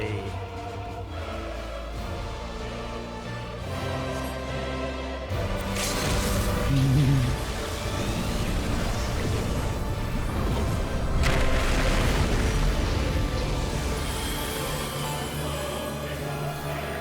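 A tank limit break in Final Fantasy XIV's Endwalker finale hits as a loud, layered burst of booming impact and crashing effects, swelling over steady battle music and ambient game sound.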